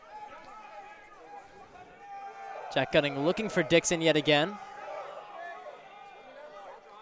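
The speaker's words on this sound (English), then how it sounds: "A lot of noise going on from the crowd right now." Crowd noise at a high school varsity lacrosse game between Loyola Blakefield and Boys' Latin: steady background chatter and cheering, swelling into a loud burst of shouts and yells midway before settling back, with a commentator's voice over it.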